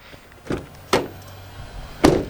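Doors on a new Toyota Land Cruiser shutting, three separate hollow, tinny thuds spread over about two seconds, fairly close with no talking.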